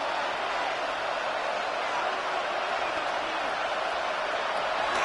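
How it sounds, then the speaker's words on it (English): Stadium crowd at the AFC Championship football game against the Colts, a dense roar that stays loud and steady throughout. "This crowd turning up the decibel level"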